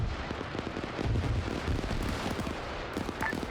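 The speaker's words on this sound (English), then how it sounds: "Those weapons, explosions you're hearing" Explosions and gunfire in the video game Arma 3, a dense continuous barrage of low booms and crackling blasts at steady loudness throughout, with no clear gaps between detonations.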